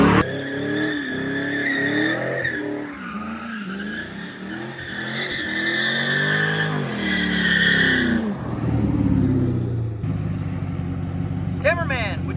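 A police Camaro doing donuts, its V8 engine revving hard while the tires squeal in long sustained howls, with loud engine surges and a voice speaking near the end.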